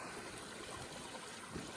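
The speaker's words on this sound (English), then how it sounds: "Nice little creek here." Wild Kettle Creek, a small clear creek in Dorrigo National Park, runs with a soft, steady trickle and gurgle, a faint continuous wash of water with no voices.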